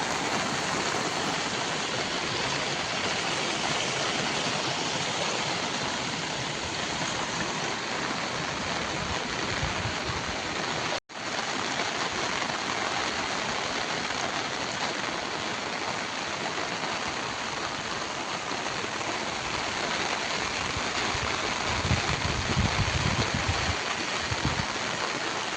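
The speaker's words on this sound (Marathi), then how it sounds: "संपूर्ण नदी ही शेतामध्ये आलेली आहे." Floodwater from a burst riverbank near Satere village pours steadily across farm fields, a loud continuous rushing roar with no voices, briefly cut by a sharp dropout midway before resuming.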